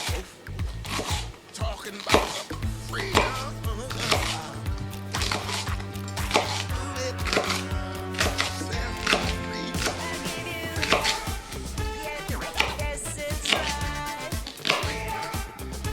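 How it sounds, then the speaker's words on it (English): A knife chops a bell pepper into long strips on a cutting board, with quick irregular cuts heard close over music. "I like to chop up the pepper into strips"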